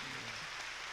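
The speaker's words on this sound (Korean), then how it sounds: "안 박사님하고 같이 박수로 환영하시기 바랍니다." An audience applauds to welcome guests at a 1999 church gathering, a dense, steady wash of clapping heard close and continuous through the short moment.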